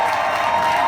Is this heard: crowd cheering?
yes